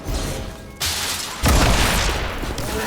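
Gunfire in a XCOM 2: War of the Chosen multiplayer tournament match, with loud, dense bursts of shots and booming impacts that swell in stages over a few seconds and form a sustained barrage.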